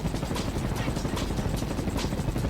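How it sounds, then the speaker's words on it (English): A helicopter in the video game Dream On gives off a continuous chopping rotor drone, steady and fairly loud throughout. "So now I'm in a helicopter."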